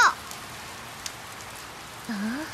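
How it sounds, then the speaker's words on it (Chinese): Cartoon rain falls as a soft steady hiss with faint drip taps. A short bright chime sounds at the start and a brief rising tone near the end. "下雨了。"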